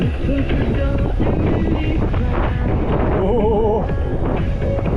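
Loud, steady wind in Crimea in June buffeting the microphone throughout, a constant roaring rush with a voice briefly calling out under it.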